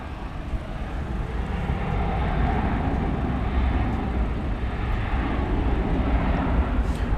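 A cargo airplane taxis at DFW Airport at night, its engines making a steady, broad, fairly loud rumbling roar that holds evenly for about seven seconds with no talk.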